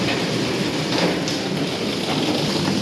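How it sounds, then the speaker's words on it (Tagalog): A downpour roars in a steady, dense hiss, loud and unbroken, with a low rumble underneath like distant thunder or traffic. "Diba, lakas ang ulan no."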